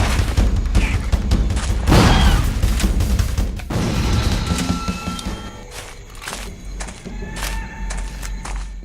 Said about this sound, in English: our next gun, which is a revolver rifle.